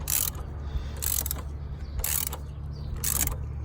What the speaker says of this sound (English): I'm using a pretty short ratchet, so I can't put that much torque on it